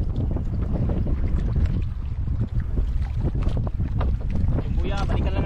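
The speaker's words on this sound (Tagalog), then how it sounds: "Naglakas rin yung hangin." Strong wind and rain buffet the microphone in a steady, rumbling roar, with water and boat noise underneath and occasional voices.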